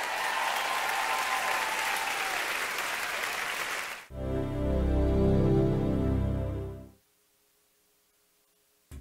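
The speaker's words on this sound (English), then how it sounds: "Somebody clap if you believe that." Audience applause bursts out at a motivational talk, a loud broad wash of clapping for about four seconds, then shifts into a low rumbling crowd sound before cutting to near silence.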